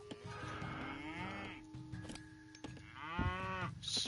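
Cows in the Age of Mythology game give two clear, drawn-out moos close up, one after the other, with no talk.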